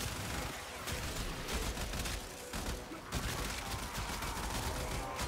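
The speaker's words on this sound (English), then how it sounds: "It's the Alka Plasmore and it's a semi-fire. Semi-fire weapon." Rapid bursts of energy weapon fire from the Alka Plasmore, a semi-fire plasma gun in Warframe, crackle in dense overlapping volleys with impact noise and game effects, steady and loud throughout.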